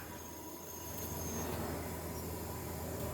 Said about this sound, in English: It's probably the compressor relieving its pressure.